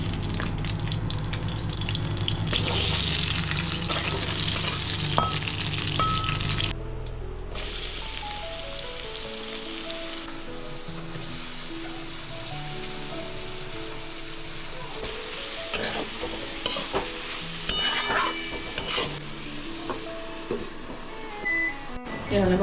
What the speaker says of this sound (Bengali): এখানে ভাজা হচ্ছে মটর ডালের বড়া